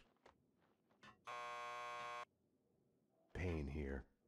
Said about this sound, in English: Just press the buzzer by the door. Petersburg will buzz you in.